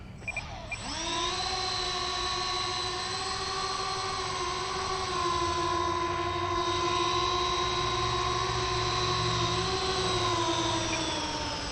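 A Supreme Hobbies RC Airbus A340 model plane taxis on a road, its electric motors giving a loud, steady high-pitched whine with a strong tonal hum that spools up at the start and holds nearly constant throughout.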